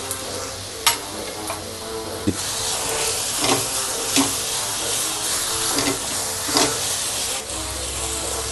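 Onion and capsicum for chicken rolls sauté in a pan with a steady, close sizzle and hiss, broken by repeated taps and scrapes of a spatula, and no talking.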